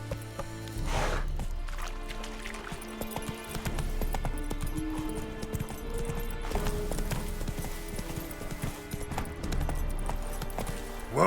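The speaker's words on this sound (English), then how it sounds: "Whoa there, Roach." A horse gallops in The Witcher 3 video game with a steady, rhythmic clip-clop of hooves over game ambience, loud and near throughout.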